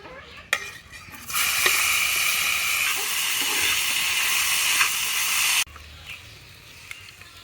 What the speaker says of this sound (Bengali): এবারে ডিমগুলো ভোনা করে নেব